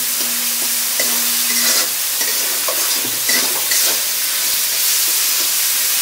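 Egg curry with eggplant, carrot and onion is stirred in a sizzling pan, with scattered clinks and scrapes of the spoon over a steady frying hiss and no talk.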